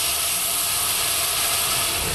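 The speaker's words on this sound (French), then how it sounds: "on déglace avec du vin blanc simplement." Loud, continuous hiss and sizzle of white wine hitting a hot pan to deglaze it, steady throughout with no talking.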